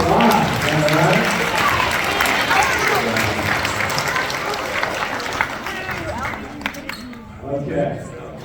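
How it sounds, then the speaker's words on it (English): Audience applause fills a school assembly hall, a broad crowd wash of clapping with voices mixed in, steady at first and thinning toward the end. "Let's give them a round of applause."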